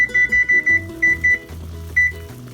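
A kitchen timer goes off with a run of short, evenly spaced electronic beeps, close and clear, followed by a few more isolated beeps over faint background noise.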